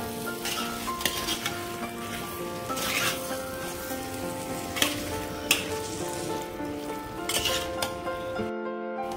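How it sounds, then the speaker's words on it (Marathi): Marinated chicken sizzles and fries steadily in masala in a pan. A utensil stirs it and scrapes and clinks against the metal now and then. "आता हे चिकन आपल्याला या मसाल्यामध्ये छान असं परतवून घ्यायचं"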